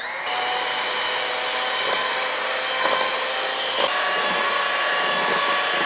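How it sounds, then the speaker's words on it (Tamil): An electric hand mixer runs at medium speed, beating whipping cream with sugar and vanilla: a steady, close motor whine that holds level throughout, with faint knocks of the beaters against the bowl. "இந்த எல்லாத்தையும் வந்து நல்ல ஒரு மீடியம் ஸ்பீடில் ஒரு 2 minutes வந்து நம்ம பீட் பண்ணிக்கலாம்."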